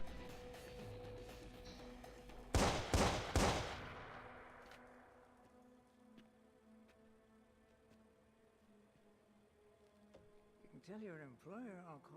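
A short volley of gunfire in the Watch Dogs video game: about three loud, sharp shots in quick succession, then fading ambience and a brief voice near the end.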